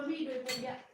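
Dishes and cutlery clink softly as people serve themselves food at a community social gathering, a steady low clatter with faint background voices.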